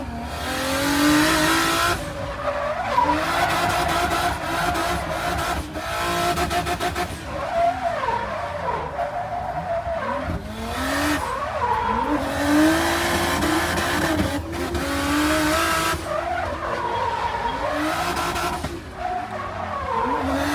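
A car skids and slides repeatedly during a destruction show, tires squealing in long howls while the engine revs hard and drops between bursts, loud and close throughout.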